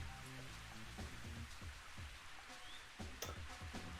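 Rain patters steadily on a golf course in the Mario Golf video game, a faint, even hiss with scattered light ticks and a few soft tones mixed in.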